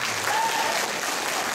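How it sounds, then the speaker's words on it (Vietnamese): A school closing ceremony audience claps for a seventh-grade student, brief steady applause at moderate level, with a faint tonal sound briefly over it. "Vivi của chúng ta một tràng pháo tay"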